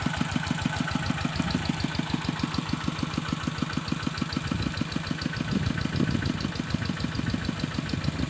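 A water pump engine runs steadily in a rice field, chugging with a fast, even low knock at a constant pace and a continuous mechanical drone.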